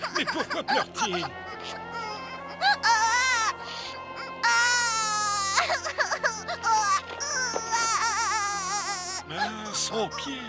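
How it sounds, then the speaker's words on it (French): A giant in a cartoon cries and sobs loudly with his foot hurt, wailing in long rising and falling bursts over background music. "Mais pourquoi pleure-t-il?"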